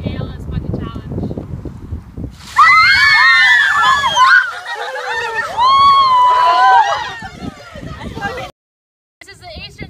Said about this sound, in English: We were nominated by Kaylee Redding for the ALS Cold Water Challenge